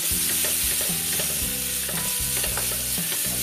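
Coriander powder and red chili powder frying in a pan for rajma, a steady loud sizzle with repeated stirring scrapes, no voices.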